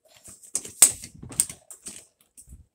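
A small to-go bag being zipped shut, heard up close as a series of short scratchy zipper rasps and clicks, irregular and fairly quiet, with no talking.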